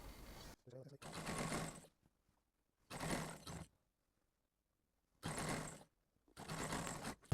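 A sewing machine stitches trouser pintucks in four short whirring bursts separated by silent pauses, running close and steady during each run.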